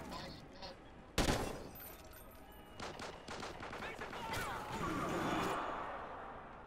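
Gunfire in a video game: one sharp nearby shot, then a burst of rapid shots and a rumbling barrage that builds and fades, with a voice talking underneath.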